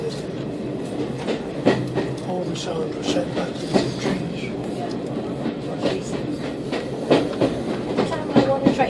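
A North Norfolk Railway heritage train rolls along with a steady clickety-clack of wheels over rail joints, heard from inside the carriage under a rumbling hum while people talk nearby.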